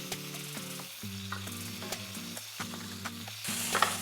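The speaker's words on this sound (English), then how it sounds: "You can see the garlic starts to brown up immediately." Garlic sizzles and fries in a hot pan for Portuguese garlic shrimp, a steady quiet crackling hiss running throughout with no voices.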